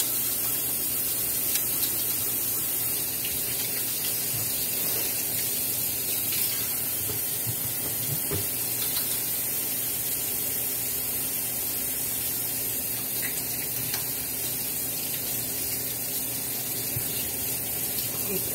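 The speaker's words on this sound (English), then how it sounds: "Splattering water everywhere." Running water sprays and splatters steadily while hands are washed, a continuous hissing gush that stays loud throughout without clear breaks.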